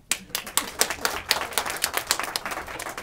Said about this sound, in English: So a big round of applause for all of you.